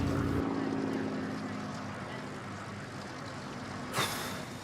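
A large formation of Spitfire aircraft drones overhead at a Battle of Britain 75th anniversary flypast, a broad, steady engine rumble with a brief sharper surge near the end.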